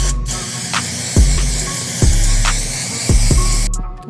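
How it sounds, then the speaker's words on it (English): Several short hissing bursts of hair spray onto wig lace, close and crisp, separated by brief pauses and light handling clicks. "And spray your lace."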